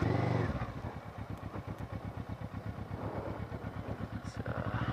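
A motorcycle engine chugs in a steady, rapid low pulse while riding out of a parking lot, starting with a louder burst then settling into an even, close rumble.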